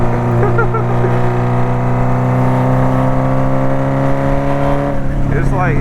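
A Honda CB750 Nighthawk motorcycle engine drones loud and close at sustained revs with a steady rumbling tone, rising slightly near the end.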